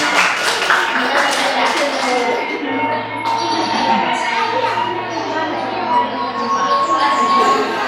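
Children clap along at a kindergarten school performance, a busy patter of small hands mixed with young voices and chatter throughout, fairly loud and continuous.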